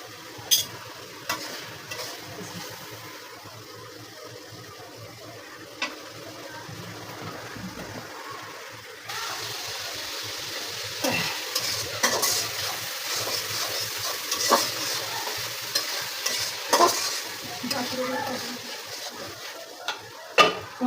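Potatoes and dried fish stir-fried in a pan, a soft sizzle that grows louder partway through, with repeated utensil clinks and scrapes against the pan.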